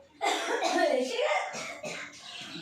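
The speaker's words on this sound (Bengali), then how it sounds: "কাশছিস কেন?" A person coughs in a home kitchen setting, a short burst of throaty coughs up close, followed by a couple of softer, broken hacks.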